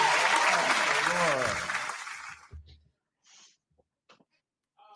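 A dense burst of clapping on a casual group video call greets an arriving guest, loud at first and then cut off abruptly, leaving a few faint scattered noises.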